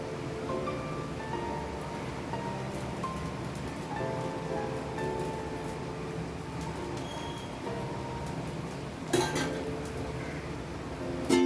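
Oil is poured onto a plain dosa cooking on a hot pan. A steady, soft sizzling crackle fills the whole stretch, with a couple of sharp metallic clinks near the end.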